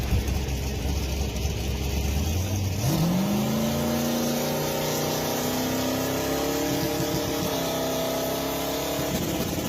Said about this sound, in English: Pay attention and you'll hear the dump valve close and kind of bog the engine.